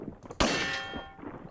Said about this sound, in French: Bon, il faut que je pète les chaînes